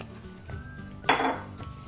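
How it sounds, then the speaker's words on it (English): A spoon stirs hot chilli powder into good quality olive oil in a small dish, giving one short, close scraping clink that rises sharply and fades within half a second amid quiet kitchen background. "Give that a little stir around."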